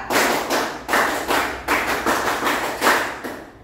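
Rhythmic group clapping of the Indonesian scout clap pattern (tepuk pramuka), performed once in a classroom: about eight sharp, loud claps in an irregular patterned rhythm, close by, with no talking over them.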